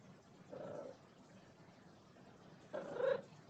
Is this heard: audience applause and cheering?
no